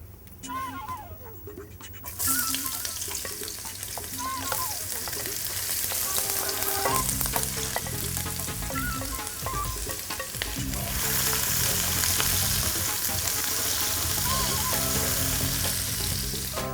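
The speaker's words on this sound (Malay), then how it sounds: "Minyak dah panas, kita boleh tumiskan bahan hirisan dan juga bunga cengkeh, bunga lawang tadi." Sliced aromatics, cloves and star anise sautéing in hot oil for lemongrass rice, a loud, steady sizzle that flares up as ingredients hit the pan, with stirring and faint talk.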